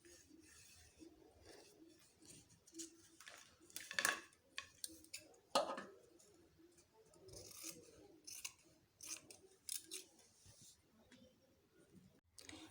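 Scissors cutting out fabric for a kimono robe, scattered crisp snips and light clicks spread over the stretch, quiet and close, with occasional faint background sounds between cuts.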